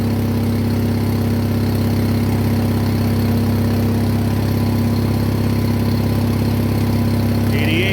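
An Onan generator set fitted with sausage mufflers runs steadily at a constant idle-like drone, a loud, even engine hum with no change in pace throughout.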